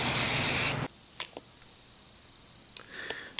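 Primer sprayed from a can onto a motorcycle tank and side covers, heard as one loud, close hiss under a second long, then quiet with a few small clicks and a short softer burst near the end.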